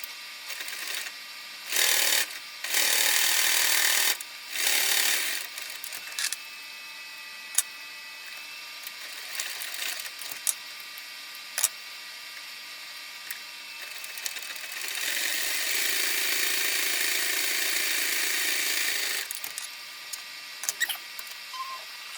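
A sewing machine top stitching a leather bag runs in short bursts of whirring noise, then one long steady run, with quiet pauses and small clicks between stitches.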